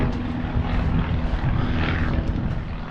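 Airplane passing low overhead near an airport beside an Oceanside, California self-service auto salvage yard, a steady broad engine roar that holds loud and close throughout, with a tonal hum beneath and no talking.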